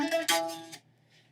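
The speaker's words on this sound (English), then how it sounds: "on the original recording it sounds like this guitar part with a really spitty fuzz going on" An electric guitar with a spitty fuzz tone plays a short, gritty riff, two quick buzzing hits followed by a clipped stop, up close.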